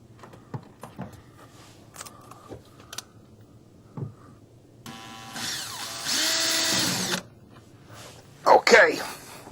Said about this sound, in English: We're going to put a screw into a pre-drilled hole in the back to just tie it to the back wall for some structure.